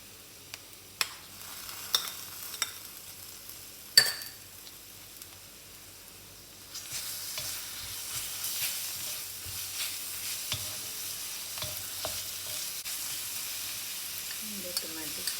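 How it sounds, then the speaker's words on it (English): Ginger garlic paste frying with onions in hot oil for a prawn stir-fry, a few taps and clinks at first, then a steady loud sizzle and crackle, close by and without talk. "Now I am adding the ginger garlic paste."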